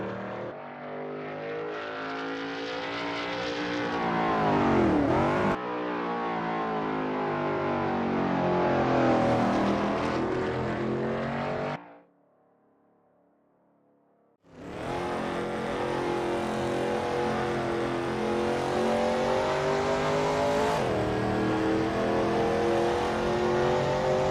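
A Veloce GTS-8 race car engine screams around Blackwood in a racing video game, loud revving that climbs and drops through gear changes, cutting out briefly before roaring back.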